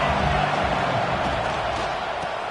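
A football stadium crowd roars in a steady, dense wash of cheering and shouting that holds loud and continuous from start to finish, with no single voice standing out.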